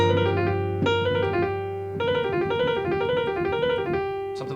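Piano blues lick built on a hexatonic scale with the natural third added, played as a few rolling phrases of chords over a sustained low bass, clear and close with no voices.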